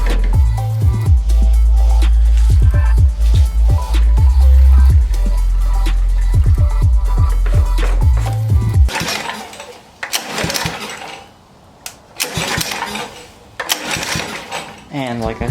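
A vintage go-kart's small petrol engine is started and runs with a loud, rapid buzzing putter for several seconds before cutting out, followed by clattering handling noises and speech.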